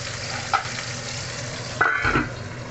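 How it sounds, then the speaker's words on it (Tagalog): Onions and garlic frying hard in a very hot pan for adobong pusit, a steady close sizzle with a brief stir at the start and a louder burst of spattering near the end. "Nasusunog na malapit na masunog yung ating onions at saka yung garlic."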